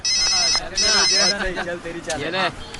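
A phone ringtone chirps in two bright bursts, then fades as a voice talks loudly nearby over it.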